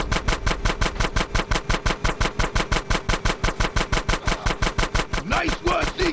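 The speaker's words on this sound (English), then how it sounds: "Shoot out the gate!" Gunfire rings out in GTA San Andreas as a gate is shot out. A loud, steady, rapid stream of automatic shots goes on for six seconds, with a brief shout near the end.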